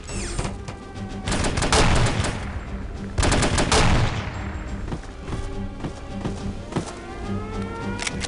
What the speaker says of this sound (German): wer schießt denn jetzt auf mich mit dem Granatwerfer?